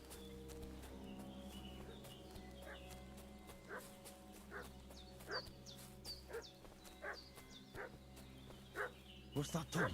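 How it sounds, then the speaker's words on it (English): A dog barks repeatedly in the medieval open-world game Kingdom Come: Deliverance II. The short, loud barks come in an uneven run over steady background music and ambience, growing busier toward the end. "What's that dog making such a fuss about?"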